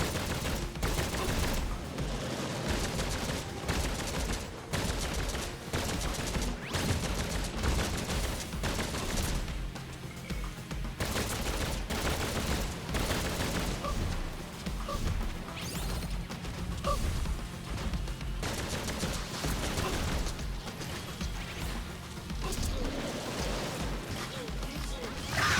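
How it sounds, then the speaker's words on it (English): Spread gun firing in the video game Contra Rogue Corps: dense, continuous bursts of rapid gunfire with crashing impacts, loud and unbroken throughout, blended with game effects. "15 shots of a spread gun"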